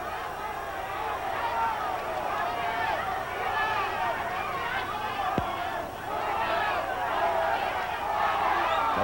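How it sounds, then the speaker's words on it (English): A boxing crowd at the Marco Antonio Barrera vs. Noe Santillana super flyweight fight keeps up a continuous roar of cheering and shouting, dipping briefly around a single sharp click before swelling again. "you can hear the crowd as they start to get in it here in the fight"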